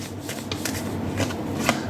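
Tarot cards are shuffled by hand in a steady, soft riffling run, close and quiet with no talk over it.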